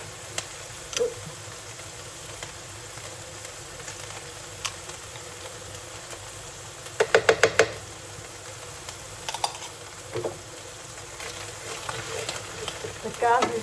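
Garlic and ginger frying with red curry paste in a pan, a steady close sizzle with occasional clinks of a utensil against the pot and a quick rattle of stirring.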